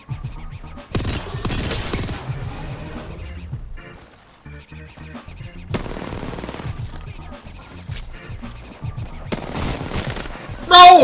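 Dense bursts of rapid automatic gunfire during a ranked video game match, loud and close, arriving in several volleys separated by brief lulls, with players shouting over the shooting.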